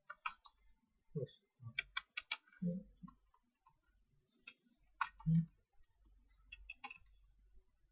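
Someone types code on a computer keyboard during a programming lesson on functions, producing clustered bursts of light clicks and key taps with brief pauses between them, close and clear without talk.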